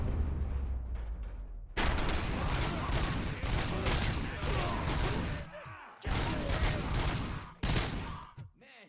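Rapid automatic gunfire bursts from the video game Robocop Rogue City, loud dense volleys with brief pauses between them and clanking mechanical sounds near the end.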